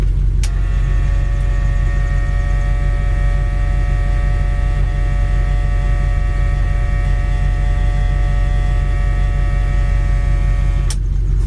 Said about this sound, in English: Radio turns on and makes some noise